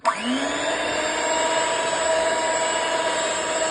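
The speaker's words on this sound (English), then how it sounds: "Get your whisk." A whisk beating milk with salt and pepper into a creamy mixture for mashed potato, spinning up quickly and then holding a steady, close, motor-like drone throughout with no talking.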